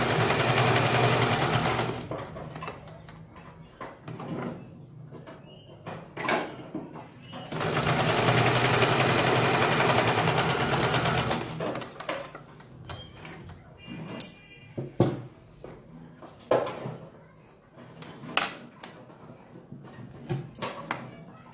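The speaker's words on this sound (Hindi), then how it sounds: "इसके ऊपर सिलाई लगानी है।" A sewing machine stitches a patch onto the back of a blouse, running in two sustained close-up bursts, then giving way to short knocks and fabric handling with brief stop-start whirs.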